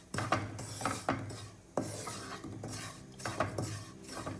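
Rava (semolina) is stirred and roasted in ghee in a pan over low flame, a spoon scraping and rasping against the metal in repeated close, gritty strokes.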